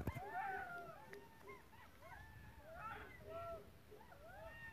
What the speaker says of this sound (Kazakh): Шакал ғой. Ұлып жатыр.